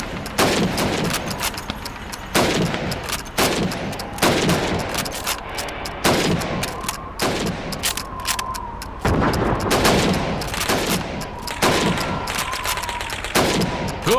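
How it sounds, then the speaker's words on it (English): Rifle shots ring out at helmet targets on a Red Army training range in Call of Duty 2, a rapid run of loud, sharp reports spaced about a second apart, each with a short echoing tail, no speech. "You have 15 seconds to shoot the helmets."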